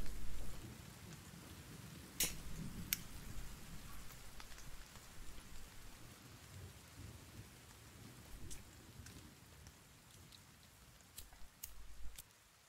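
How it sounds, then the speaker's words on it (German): Rain in the survival video game The Forest, a steady soft downpour hiss with low thunder rumbles near the start and end and a few sharp crackles, faint and continuous. "Oh, es regnet."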